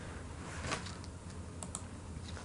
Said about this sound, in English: So just type